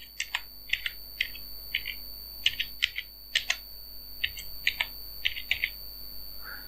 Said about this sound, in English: here I'm going to type my password.